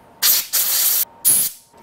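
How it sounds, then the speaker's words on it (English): Cleaner sprayed into a carburetor body during an engine, carb and clutch rebuild, heard as three loud, close aerosol hisses, the second one longest, separated by brief silences. "So I'm gonna spray out this body here first."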